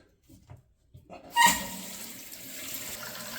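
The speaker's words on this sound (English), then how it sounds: "the water is filling" Water rushes into a toilet tank through a new Fluidmaster 400A fill valve, starting abruptly after a quiet moment with a sharp hiss, then settling into a soft, steady trickle and hiss.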